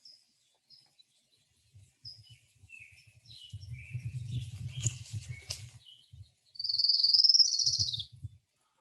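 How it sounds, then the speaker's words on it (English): Song of an orange-crowned warbler: a thin, high trill that rises gently and falls back, preceded by scattered faint chips and accompanied by soft patter-like insect or cricket pulses. "That's typical for orange crown warbler."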